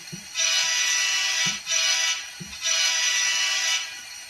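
A ScaleTrains SD40-2 model locomotive horn sounds three times, a short blast followed by two longer ones, steady and fairly loud with brief gaps between.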